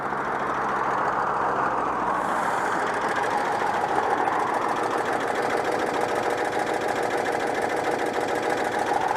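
Citroën 2CV AZLP6 engine idling after an overhaul, a steady, close, rapid mechanical chatter with a low throb that runs evenly and continuously with no talk.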